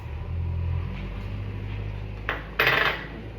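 Omelette ingredients being mixed in a bowl, a low scraping rumble followed by two sharp clinks of utensil on the bowl near the end, close and fairly loud with no talking.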